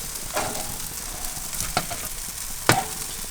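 Bacon-wrapped perch skewers sizzle steadily on a grill, a broad close crackle with a few sharp pops and louder spits near the end, no voices.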